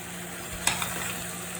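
Chinese potato (koorka) being stir-fried with pepper and garam masala gives a soft steady sizzle in a pan, with a brief scrape of stirring near the middle.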